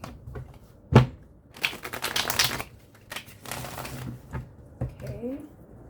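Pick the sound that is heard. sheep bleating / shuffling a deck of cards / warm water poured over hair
shuffling a deck of cards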